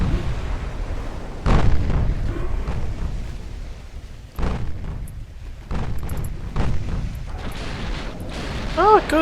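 Naval artillery shells hitting ships in the Ultimate Admiral Dreadnoughts game: several heavy, booming impacts spaced a few seconds apart, each with a deep rumbling tail, over continuous low battle noise.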